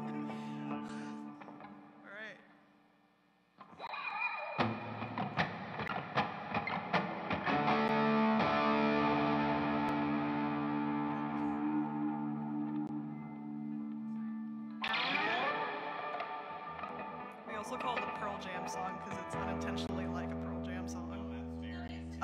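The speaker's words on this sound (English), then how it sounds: "fat reverb, my god" Music drenched in heavy reverb, sustained chords blooming and washing into long echoing tails, with a pause before the swelling sound returns.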